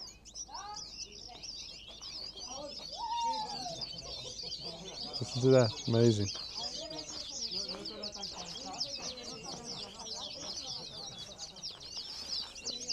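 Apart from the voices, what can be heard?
Atlantic canaries singing in a pine tree, Tenerife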